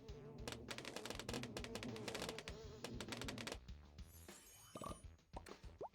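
Buzzing bees released in a flower-pollinating video game, heard as a dense, rapid run of clicky insect buzzes that thins out toward the end, fairly soft and with no voices.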